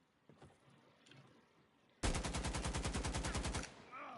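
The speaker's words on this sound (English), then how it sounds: "my favorite light machine gun" A light machine gun fires a sustained, evenly paced automatic burst in the video game Insurgency Sandstorm, loud and close, cutting off abruptly after about a second and a half, with quieter game noise before it.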